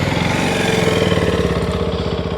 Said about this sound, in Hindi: अब एक बार आपको इसका मैं एग्जॉस्ट नोट सुना देता हूँ